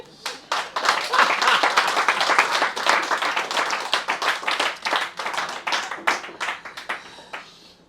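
Audience applause after a reading: a dense burst of many hands clapping, loud at first, then thinning into scattered individual claps before dying away.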